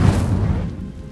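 The Incendio fire spell bursts in Hogwarts Legacy, a deep, loud whooshing boom that swells at once and rumbles off over about a second.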